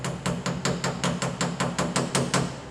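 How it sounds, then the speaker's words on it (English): A hammer taps out a small dent in a car body panel, about a dozen quick, evenly spaced metallic blows in steady rhythm, close and moderately loud. "you can actually hammer from this side"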